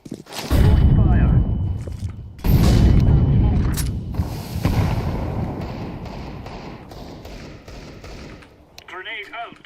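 Counter-Strike 2 incendiary grenade thrown and igniting, heavy booming thuds at the start and again a couple of seconds later, followed by a sustained roaring burn that slowly fades, with game sounds mixed in.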